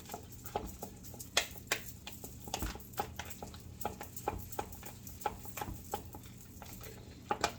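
Spoon scraping and clicking against a bowl while mayo is stirred into mashed egg yolks for deviled eggs, a steady run of light, close taps and scrapes.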